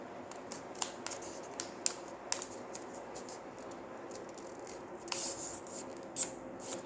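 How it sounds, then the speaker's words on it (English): Paper being folded and creased for an origami figure, giving soft close rustles and sharp brief crackles and swipes as the crease is pressed, scattered irregularly without talk. "Now fold from the middle paper like this way and give the crease."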